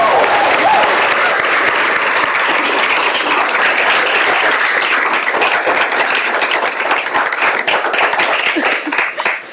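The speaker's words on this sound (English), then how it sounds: "please, with a thunderous round of applause" An audience breaks into loud, sustained applause for a speaker being welcomed at a talk. Dense clapping runs throughout and thins slightly toward the end.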